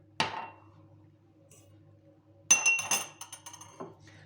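A 200 ml water glass clinks while sugar is measured out for dessert syrup in a kitchen: one ringing tap, then a cluster of quick, close clinks and scrapes after a quiet pause.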